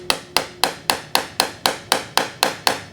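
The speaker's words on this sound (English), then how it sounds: "So a little bit smaller hammer, dead blow," A dead blow hammer taps an engine seal into place on a KX450F two-stroke motorcycle in ten evenly spaced, crisp blows, each with a short decay, close and alone.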